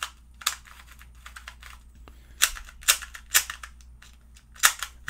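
A small plastic 2x2 speed cube being turned gives quick bursts of light, clacky clicking, close up and fairly quiet, with short pauses between flurries of turns.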